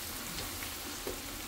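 Pork binagoongan frying in a pan, a steady soft sizzle continuing evenly throughout at low volume, with no voices.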